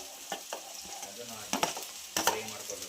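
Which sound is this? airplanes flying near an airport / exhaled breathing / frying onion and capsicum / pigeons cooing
frying onion and capsicum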